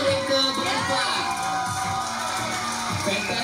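Lively audience cheering and clapping with excited shouts at a children's singing competition semi-final results show, loud and continuous, with a voice and music tones running underneath.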